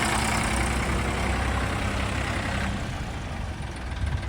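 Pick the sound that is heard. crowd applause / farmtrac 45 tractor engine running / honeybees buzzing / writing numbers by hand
farmtrac 45 tractor engine running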